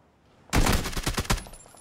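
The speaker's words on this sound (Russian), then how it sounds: "Стрельба исключительно в голову, как вы понимаете." A rapid, loud burst of automatic gunfire with several closely spaced shots in a competitive online video game match.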